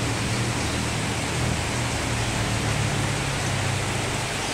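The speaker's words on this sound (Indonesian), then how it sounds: "Lumayan ke bawah hujannya tinggi juga." Heavy rain pours down in a dense, even wash of noise, loud and unbroken with a low rumble beneath, and no voices.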